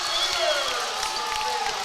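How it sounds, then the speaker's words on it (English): Basketball crowd, bench and student section cheering at a varsity high school game, a steady roar of voices filling the gym, loud and sustained, with a commentator's voice over it. "Again, the crowd and the bench and the student section come alive here."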